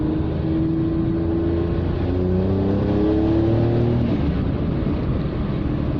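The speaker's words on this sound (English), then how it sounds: "I love the noise this car makes." Daewoo Matiz with an aftermarket exhaust driving on the road, a loud steady engine drone with rising and falling tones as it accelerates and shifts, close and continuous with no talk.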